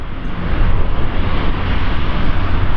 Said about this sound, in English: I can hear winding up those big propellers.